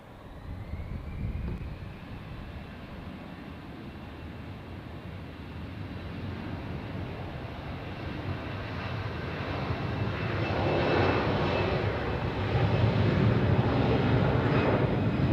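A passenger airplane takes off from runway 28 at Zurich airport, its engine roar building steadily from a distant rumble to a loud, broad sustained thrust with no voices over it.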